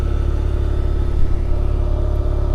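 A turbocharged Mazda RX-8 rotary engine idles steadily on a 53% ethanol flex-fuel blend, a loud, even low rumble with a fast pulsing beat and no voices.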